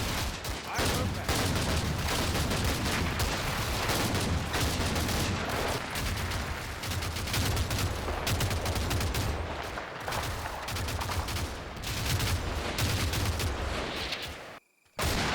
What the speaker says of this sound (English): one of my medium machine guns continues to provide supporting fire from the right